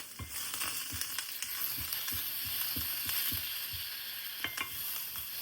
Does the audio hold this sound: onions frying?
yes